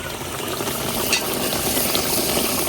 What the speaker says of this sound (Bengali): এখন আরো কিছুক্ষণ কষাই নিলাম